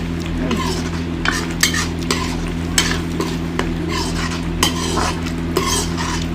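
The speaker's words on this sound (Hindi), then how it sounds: "मसाला ना अच्छा से भून लो" Masala with garlic and onion fries in a pan while a spoon stirs it, giving a constant loud sizzle broken by regular metallic scraping strokes, close up, with no talking.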